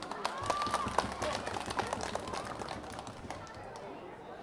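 Audience clapping at an outdoor Qingming spring-fair folk music concert, a loose patter of many hands rising quickly and then thinning out over a few seconds, fairly faint and distant.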